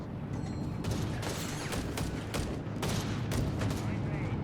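Rapid bursts of flak panzer cannon fire in Company of Heroes 3 rattling in quick repeated volleys amid battle noise, with a caster talking over the gunfire.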